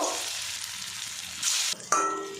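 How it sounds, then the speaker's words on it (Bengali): Papaya fritters frying in hot oil, giving a close steady sizzling hiss that swells briefly and then drops, with a few sharp clinks near the end and no talk. "বাকিগুলো আমি এইভাবে ভেজে নেব।"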